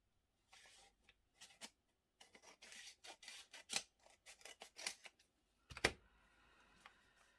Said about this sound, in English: Cut that edge. I'll cut that one.